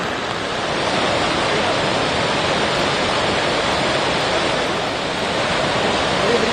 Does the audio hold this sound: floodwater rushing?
yes